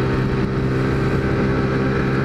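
A motorcycle engine revs, with a steady, buzzing drone running throughout a brief stretch at moderate distance. It fits a rider pulling a wheelie. No talk is heard.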